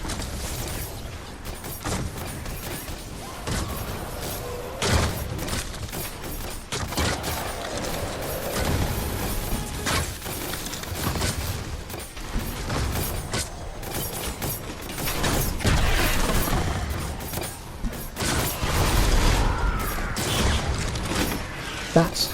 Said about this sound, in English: That's how you use the broadside traps. You have one facing another one because the cannonballs bounce.